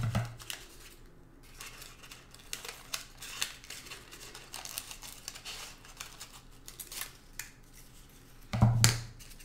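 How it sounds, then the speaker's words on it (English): Scissors cut a paper cupcake liner, a steady run of small crisp snips and paper crinkles close by, ending with a louder rustle, no talk. "So I cut the cupcake in half."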